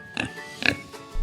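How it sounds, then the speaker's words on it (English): A pig gives two or three short, close oinks and snorts, clearly heard with no speech over them. "Yes, it's a pig."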